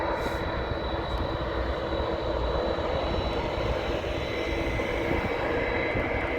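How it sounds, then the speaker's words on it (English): An Air France A320 airliner at Amsterdam Airport roars steadily as it powers along the runway, a loud, continuous broadband engine rumble with a faint high whine that holds even throughout. "Air France A320, probably going to Paris."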